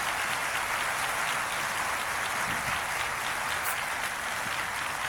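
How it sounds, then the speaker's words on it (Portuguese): A church congregation at a Bible launch service applauds, a dense, steady wash of many hands clapping at moderate level, sustained evenly from start to finish without talk. "Eu agradeceria se oferecêssemos um aplauso de gratidão a Deus pela visão."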